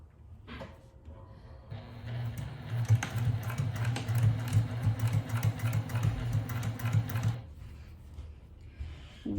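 Sewing machine stitching across a zipper on a fabric pouch, a fast, steady mechanical whirr of needle strokes running for several seconds at moderate level, starting and stopping cleanly.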